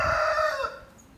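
A single rooster crow, loud and close, its long call trailing off into quiet.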